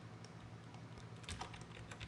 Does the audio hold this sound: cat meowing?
no